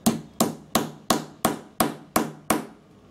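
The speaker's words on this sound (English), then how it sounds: "you hammer it again" Eight sharp metal-on-metal hammer strikes setting a metal eyelet in bookbinding, in a steady, even rhythm, close and loud, each ringing briefly before the next blow.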